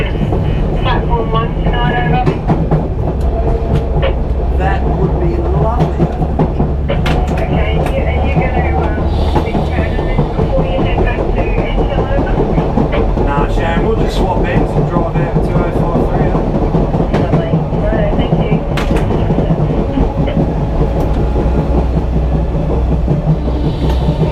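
Inside the cab of the Savannahlander train running from Kuranda toward Cairns, a steady loud rumble of the moving train carries on with rhythmic clicks and knocks, while voices talk over the radio at times.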